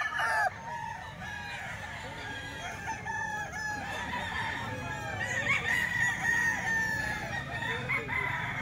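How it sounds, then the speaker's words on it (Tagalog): Many roosters at a grotto market crow over one another in overlapping calls, mixed with steady clucking and a dense background of crowd and market noise. "Napakaraming manok pa rin dito sa grotto mga boss."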